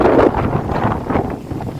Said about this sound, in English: Ignore the wind. It is very windy here in Plumpton today.